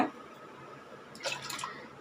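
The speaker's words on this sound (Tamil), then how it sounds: "இதுக்கு தேவையான தண்ணி விட்டுடலாங்க பருப்பு முழுகிற அளவுக்கு தண்ணி வச்ச போதும்" Water running into a pot of chana dal for a bottle gourd kootu, a soft steady trickle with a brief louder splashing pour near the end; no one speaks.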